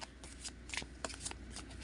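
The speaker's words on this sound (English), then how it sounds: "I'm going to shuffle these cards." A deck of tarot cards is shuffled up close, giving soft rapid riffles and flicks with a few sharper snaps, quiet and steady.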